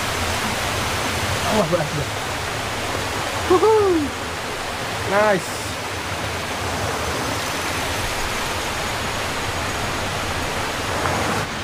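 Running water from a river crossing on a jungle hiking trail up Gunung Nuang via Janda Baik fills the scene as a steady broad rush, with a few brief exclamations from hikers over it.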